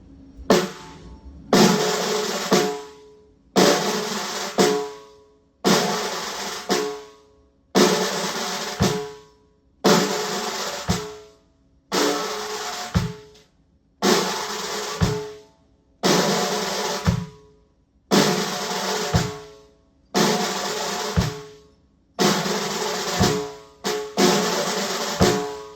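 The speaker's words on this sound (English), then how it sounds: "So this first style is called a dirge." Slow jazz dirge in funeral-march style, evoking St. James Infirmary, with heavy accented chords struck roughly every two seconds and each one decaying before the next, loud and regularly paced with no talking.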